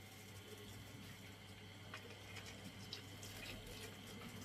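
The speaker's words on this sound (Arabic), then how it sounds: "ميه سخنه" Hot water pours steadily into a cooking pot, a soft continuous trickling wash at low level with no talking.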